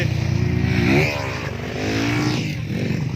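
Dirt bike engines rev steadily on the first motocross track in Nepal, with rising and falling pitch through the whole stretch, loud and fairly close, with no talking.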